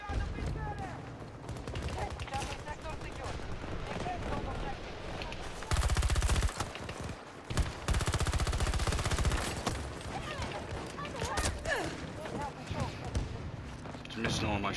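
Rapid M5A3 rifle gunfire in a Battlefield 2042 match, loud bursts of automatic shots repeating through the clip with heavier barrages midway, layered over game noise and someone talking.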